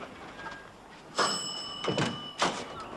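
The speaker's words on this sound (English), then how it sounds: "I'll go and answer the door." A door being answered and opened in a sitcom home: a few sharp wooden thumps and clunks a moment apart, fairly close, over quiet room tone.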